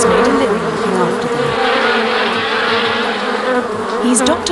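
Dense, loud swarm of bees buzzing steadily and close, a continuous droning hum with a bee expert nearby, no talking.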